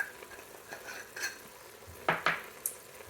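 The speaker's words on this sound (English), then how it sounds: "And we're just gonna let this continue to brown up." Beef with a little paprika browns in an Instant Pot, giving a soft, steady sizzle broken by a few sharp scrapes and clinks of a utensil against the pot.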